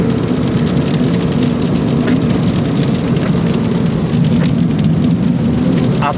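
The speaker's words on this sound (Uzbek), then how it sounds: "Yomg'ir yog'yapti." Steady rain falls during a drive toward Aktobe in mid-March, a dense continuous hiss of drops drumming on the surface with a low rumble beneath, loud and even throughout with no talking.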